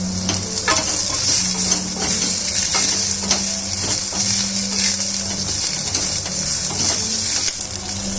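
Onions fry with ginger, curry leaves and a pinch of salt in a surgical steel pan, giving a steady close sizzle with scraping stir strokes and light utensil clinks throughout.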